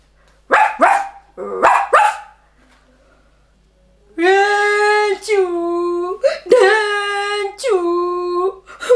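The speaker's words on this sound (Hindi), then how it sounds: "मोती कुत्ता वहां आया।" A dog gives a few sharp, close barks, then after a pause lets out longer, drawn-out, howling barks in a children's read-aloud story. No other sounds compete.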